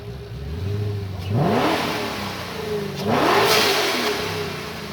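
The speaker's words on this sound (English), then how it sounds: "Johnny, can we get another couple of revs on that?" A 2022 Shelby GT500 Code Red blips its throttle in two sharp revs, each climbing quickly and falling back to a rumbling idle, close and loud at an outdoor car show.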